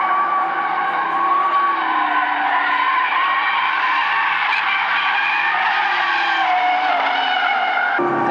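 Audi RS3 drifting on a race track in Greece, with loud, sustained tire squeal and skidding that wavers in pitch over a continuous engine drone, close and unbroken, no talking.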